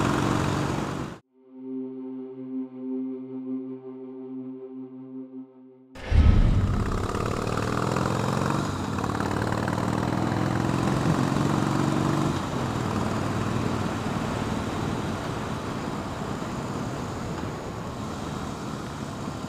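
A Harley-Davidson motorcycle's engine drones steadily while riding, close and loud with heavy wind rush over it. A brief tonal, music-like passage early on cuts back to continuous engine and road noise.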